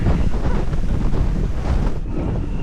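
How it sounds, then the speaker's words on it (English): Strong gusting wind buffets the microphone outdoors in a loud, rumbling, uneven roar with no speech. "The wind is blowing so hard that I can't walk straight because I'm losing my balance."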